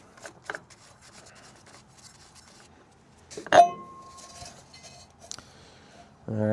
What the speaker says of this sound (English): get a wire brush, get that little cleaned off